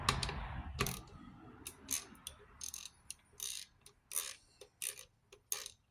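Ratchet clicking on an old carburetor: repeated short bursts of fine, fast ratcheting clicks, close and fairly quiet, with brief pauses between each burst of turns.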